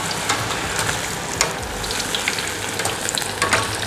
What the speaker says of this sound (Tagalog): lagay lang natin sa mantika, sa mainit